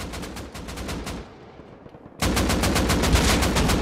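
Rapid automatic gunfire in the console edition of the video game Rust, loud bursts of closely spaced shots that pause briefly and then resume in a dense stream.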